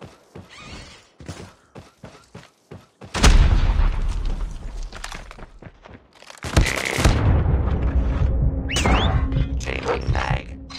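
A frag grenade explodes in a Call of Duty ranked match, giving a sudden loud, booming blast after scattered light gunfire. A second heavy burst of gunfire and blasts follows a few seconds later.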